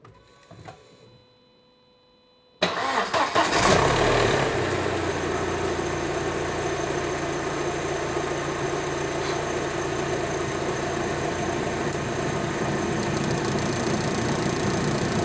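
Near silence, then a car engine with an LPG system turns over and catches, settling into a steady, loud mechanical idle that runs on without letup.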